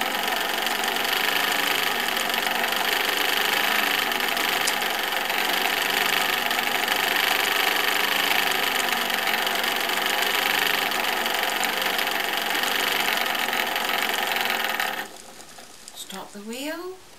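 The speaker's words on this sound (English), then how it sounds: "Pinch off the twist, speed up the wheel." A great wheel spinning cotton yarn, giving a steady, continuous mechanical whirring hum for most of the span before it drops off and a voice speaks.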